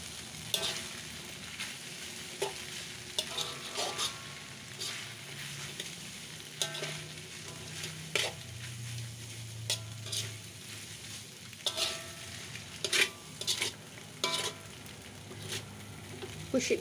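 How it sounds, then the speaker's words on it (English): Mamak mee goreng noodles with chili and peanuts stir-fried in a hot pan, a continuous loud sizzle punctuated by repeated scraping and clanking of a spatula against the metal pan. "Give it a good stir."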